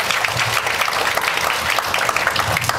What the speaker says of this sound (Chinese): 我希望可以借由大家掌声感谢我们的台湾老师们